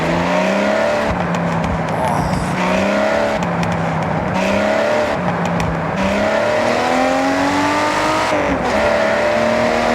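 A Ferrari's engine in Forza Horizon 6 revs repeatedly, climbing and dropping through several loud, close pulls with brief gear-change breaks, a raspy snarl heard alone for about ten seconds.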